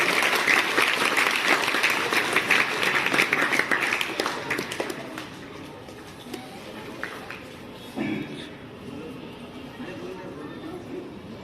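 Applause from an audience at a school dental screening camp, strong at first and gradually fading into scattered claps and murmuring, with a voice speaking over the tail end.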